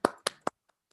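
Applause from a conference audience for the speakers at an Indonesian aquafeed event, three sharp bursts of clapping that fade quickly, followed by a couple of faint stray claps.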